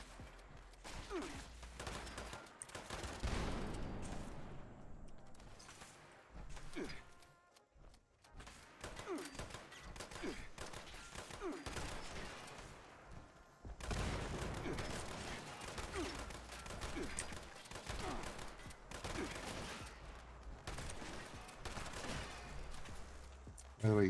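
Bursts of automatic gunfire and thudding impacts in Fallout 76 while fighting hostile robots, loud rattling volleys broken by short quiet gaps, with a voice talking over parts of it.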